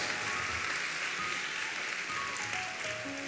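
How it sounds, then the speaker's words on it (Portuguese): A Pentecostal church congregation applauds in a steady, dense wash of clapping that fills the hall without a break. "pode aplaudir aí"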